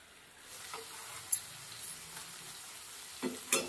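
Spice paste and bottle gourd stems fry slowly in a pan, giving a faint, steady sizzle with occasional scrape and clink of a stirring spoon.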